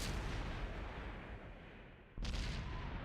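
Tank cannon fire in the World War II strategy game Call to Arms: Frontlines during a Barbarossa battle, a heavy booming shot that rolls away and then a second sharp blast close by, with no voices.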